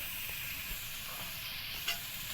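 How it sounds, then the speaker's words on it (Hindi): Cumin, chili flakes and black pepper fry in oil with salt for chicken pasta, giving a steady, quiet, continuous sizzle with a faint stir or two. "अब इन सबको हम थोड़ा सा फ्राई करेंगे"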